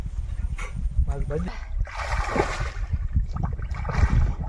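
Water splashing and sloshing in a Sundarban village pond as someone ducks under again and again, irregular splashes and trickles heard close by with people talking over them.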